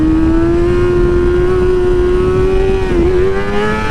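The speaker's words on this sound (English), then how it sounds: "Can't end this without a wheelie." A heavy motorcycle with a full fuel tank holds a steady, loud revving engine drone through a wheelie, its pitch sustained and dipping briefly near the end, close up and with no talking.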